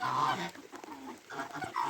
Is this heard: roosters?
yes